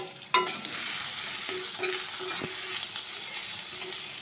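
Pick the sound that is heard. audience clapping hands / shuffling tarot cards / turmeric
turmeric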